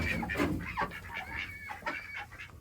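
Chickens and ducks in a warm winter coop give close, irregular clucks and squawks in short bursts, moderately loud with no speech.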